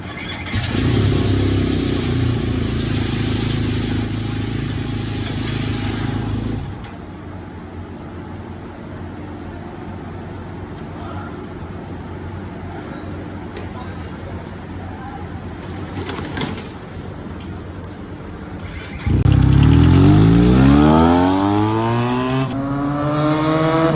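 A Benelli TRK 502 X motorcycle engine runs loud and close on a test ride, steady for several seconds, drops to a lower rumble, then revs up again near the end with rising pitch sweeps.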